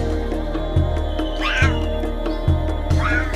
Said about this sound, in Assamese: আৰু এই চাপ পাইছে এই কিমান ডাঙৰ মেকুৰী